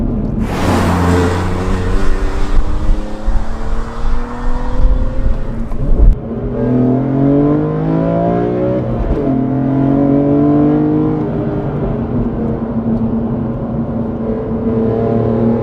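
A tuned BMW M3 CSL engine revs hard, its pitch sweeping up and down through several loud, throaty pulls before settling into a steady drone.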